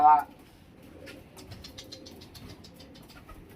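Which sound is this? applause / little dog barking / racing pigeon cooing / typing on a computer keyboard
racing pigeon cooing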